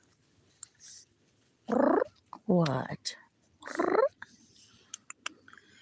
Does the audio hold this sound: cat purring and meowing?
yes